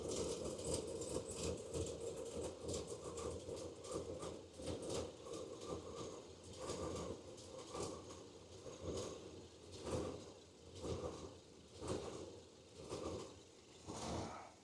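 A GMC engine idles in a steady low rumble, close by, with a gentle rhythmic pulsing and a few louder swells throughout.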